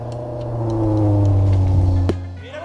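A car engine is started and revved up. It gives a loud, close rumble that swells and holds, then drops back with a sharp click near the end.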